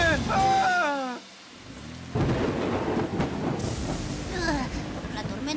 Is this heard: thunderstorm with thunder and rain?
yes